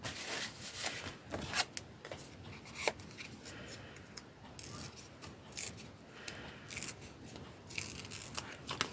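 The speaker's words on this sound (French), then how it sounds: "Je découpe tout autour parce qu'en fait, je veux qu'on voit ce que j'ai fait." Scissors cut around an Easter paper playing card for scrapbooking, a quiet, close run of short snips and rustling paper strokes in irregular bursts, with no voices.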